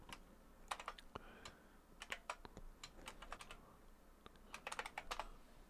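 Keystrokes on a computer keyboard enter a password during a Ubuntu 16.04 LTS install in VirtualBox, coming as quiet, irregular bursts of clicks spread over several seconds with faint background noise and no speech.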